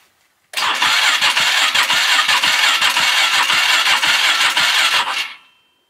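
An engine cranks over and over for about four and a half seconds without catching, a fast rhythmic chugging of the starter that stops abruptly into silence.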